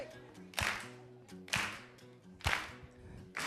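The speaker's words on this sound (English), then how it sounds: "I need you to clap your hands with me if you can." Audience clapping along to a Motown song, with sharp, evenly spaced claps about once a second over a soft sung melody.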